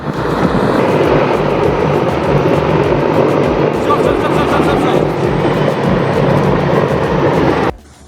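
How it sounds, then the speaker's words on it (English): A Mi-26 heavy-lift helicopter flies while carrying an airplane as an underslung load, producing a loud, continuous roar with a rapid rhythmic rotor thump that holds steady until it cuts off abruptly near the end. "The Mi-26 helicopter is a record holder in terms of payload capacity."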